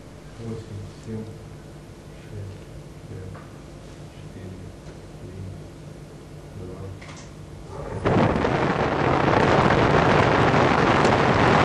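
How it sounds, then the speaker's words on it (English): An ILS Proton rocket lifts off from Baikonur Cosmodrome in Kazakhstan, its roar bursting in abruptly after a quieter, windy stretch and then holding as a loud, broad, sustained rush to the end. "we have liftoff of an ILS Proton rocket from Baikonur Cosmodrome in Kazakhstan"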